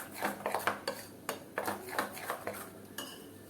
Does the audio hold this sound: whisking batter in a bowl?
yes